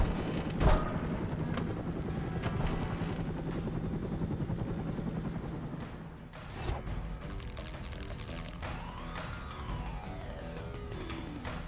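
Helicopter in the video game Stranglehold, a loud continuous rotor drone broken by sharp crashes and impacts with a sweeping whine near the end, heard without speech.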